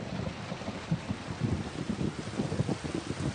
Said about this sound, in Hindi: ये बारिश तो रुक नहीं रही।